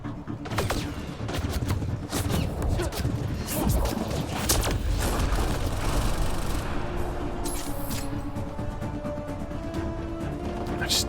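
Dense, continuous barrage of video game explosions and blasts from a ton of detonated explosives, loud and sustained throughout with crackling bursts and booming low rumble, a voice speaking faintly beneath.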